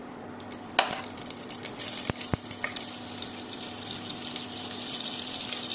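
A spoonful of ghee hits hot oil in a pot for mutton curry, bringing a steady close sizzle with a few sharp clicks and pops early on, after which the hiss settles into an even bubbling with nobody speaking.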